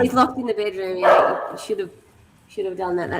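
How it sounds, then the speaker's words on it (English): A pet dog barks inside a house, several sharp barks and yips coming between and under people talking, followed by a brief pause and more talk. "my dog is barking"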